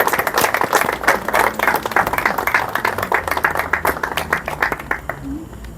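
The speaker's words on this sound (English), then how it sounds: "I'm going to ask all the young people and the producers to give His Excellency and his team a wonderful round of applause" A small crowd at an awards cocktail event in the Virgin Islands claps in a lively round of applause, distinct individual hand claps close by, ending abruptly near the close.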